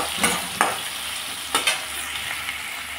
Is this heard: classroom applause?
no